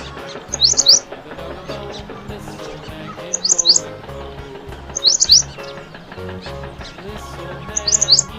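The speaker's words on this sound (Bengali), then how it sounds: "বুলবুলিটির মুখটি কালো" A bulbul chirps in four short, bright bursts spaced a few seconds apart over continuous background music.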